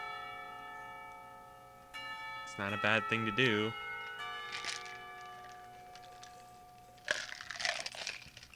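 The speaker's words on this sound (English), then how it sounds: "The bell to signal the beginning of lunch rings out." A school bell in a visual novel game signals the start of lunch with a short melodic chime over soft background music, followed by a brief spoken line.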